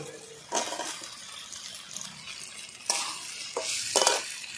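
Potato pieces added to masala in a pan and stirred, with several sharp scraping and clinking bursts of a spoon against the pan over a faint sizzle.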